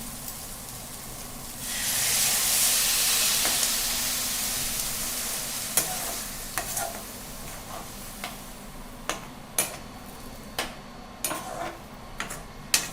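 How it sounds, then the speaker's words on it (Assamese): A surge of hissing steam rises as water is poured onto chickpeas frying in a hot pan, then settles into a softer simmer with scattered sharp ticks and clinks. "দেৰি ভাজা পিছত এতিয়া বুটখিনিত পানী ঢালি দিম।"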